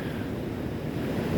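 Water flowing through the open mouth of Swartvlei Lagoon in Sedgefield out to the sea after heavy rain, a steady, close rushing roar with no pause, under rough, windy conditions.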